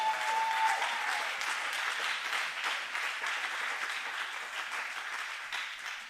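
A church congregation applauds the Lord in steady, continuous clapping that fills the room evenly, moderately loud and without pause, with faint voices mixed in.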